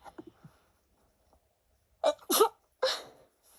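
An indoor sneeze lands as sharp, loud bursts in quick succession after near silence, with a final explosive release and faint, brief vocal sounds at the start.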